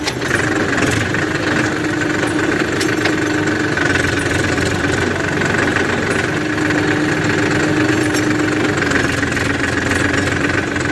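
An old tractor engine runs steadily near at hand with a knocking, vibrating idle while its gears are put through forward and reverse, the loud drone constant throughout.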